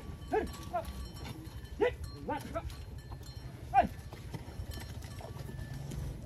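Trained cattle working in a flooded rice field, with a few faint lowing calls and splashing steps over a steady outdoor background, while a voice calls out now and then.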